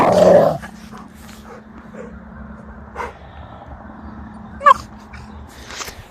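Dogs on a mountain outing growl and yip at each other in rough play, a loud close yelp at the start giving way to a steady low growling rumble broken by short sharp yips.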